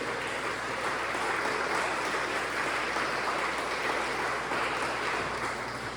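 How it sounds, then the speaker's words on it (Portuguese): A church congregation applauding, a dense, even wash of clapping that holds steady for the whole stretch, fairly loud and filling the room, with no speech over it. "Dá uma salva de palmas ao Senhor se você crê nisso"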